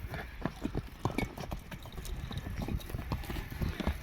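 Hooves of a horse being readied for an ulak horse-riding event clip-clop on the ground, a close, uneven run of thuds with faint background sounds.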